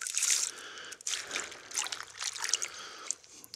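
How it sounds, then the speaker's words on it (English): Beech mast seeds tossed into a bucket of water make a run of splashing, trickling and dribbling sounds, a few handfuls landing in quick bursts close by with short pauses between. "So I've got a bucket of water here and we'll just throw them in"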